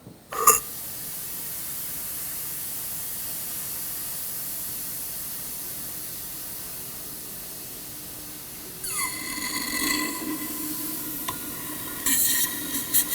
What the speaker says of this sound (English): Use a fluid extractor, a vacuum pump, whatever you have that'll get all this fluid out.